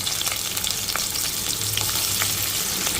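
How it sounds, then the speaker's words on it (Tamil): A large onion sizzling steadily in hot oil for a Tamil mochai bean kulambu, a constant loud crackle with occasional stirring scrapes, no voices. "வெங்காயம் நல்லா கலர் மாறணும் அந்தளவுக்கு நல்லா வதக்கிக்கோங்க"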